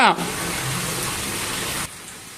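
A steady wash of broadband hiss like heavy rain pours for about two seconds, then drops to a softer background during a downpour in Chennai.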